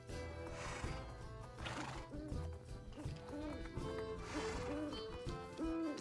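A horse in the Minecraft video game neighs several times in short whinnying bursts amid faint clip-clop and game ambience, with people talking in the background.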